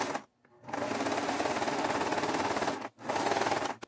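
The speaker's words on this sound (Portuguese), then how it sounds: "Vamos passar um zigue-zague aqui para unir um tecido com o outro." A sewing machine runs a zigzag stitch joining two pieces of fabric, a loud, steady mechanical whirr in two bursts, the first long and the second shorter after a brief pause.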